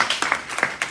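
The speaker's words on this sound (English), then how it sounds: "Let's give another round of applause to everyone." Audience applause at a town hall meeting, a short burst of scattered hand claps with uneven rhythm, moderately loud and without talk.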